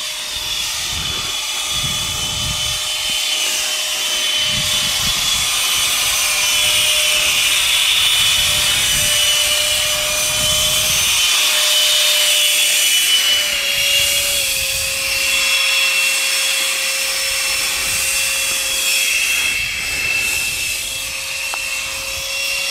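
An H-King High Performance 70mm electric ducted fan RC Parajet in flight gives a steady, loud high-pitched whine with a sustained tone that rises and falls slightly as it passes, continuous throughout with no talking.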